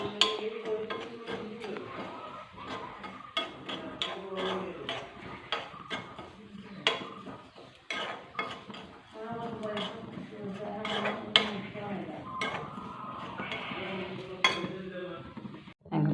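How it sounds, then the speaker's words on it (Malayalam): Grated coconut roasting in a pan for sambar, with a spoon scraping and stirring against the metal in frequent small clicks and scrapes, a faint sizzle beneath, while a voice talks over it. "തേങ്ങ മുരഞ്ഞ് മുരഞ്ഞ് വരുന്നുണ്ട്"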